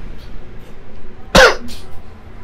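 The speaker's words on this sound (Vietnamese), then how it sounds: "Ho nữa rồi." A single sharp, loud cough bursts out close by against a quiet background, followed by a faint throat-clearing trail.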